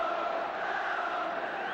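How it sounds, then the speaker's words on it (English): Crowd noise from the terraces during a 1975/76 Crystal Palace football match with fighting among spectators, a steady, dense roar of many voices that stays loud and unbroken throughout. "And still the fighting going on the terraces."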